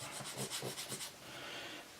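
Quick rhythmic back-and-forth rasping of a sanding stick on a 1/72 plastic model aircraft, about eight close, soft strokes, then a quieter continuous rub.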